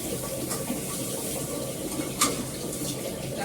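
Tap water runs steadily into a kitchen pot while rice is washed, a continuous broadband splashing hiss with a brief brighter splash near the middle and no voices.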